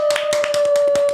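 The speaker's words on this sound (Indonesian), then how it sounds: "Tepuk tangan dulu buat kita." A few people clapping hands in a quick, uneven rhythm, close and fairly loud, with a steady tonal hum running underneath the claps.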